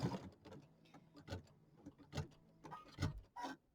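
An embroidery machine sewing triple-stitch tack-down lines through applique fabric, a steady run of sharp mechanical clacks and whirs that come in quick repeated pulses, fairly close and faint, with no voices.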